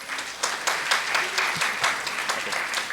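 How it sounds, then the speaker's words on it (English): A warm round of applause welcomes Father Esteban to speak at a schools conference, the crowd's clapping dense and steady with a few sharper individual claps standing out. "So please join me in welcoming Father Esteban with a warm round of applause"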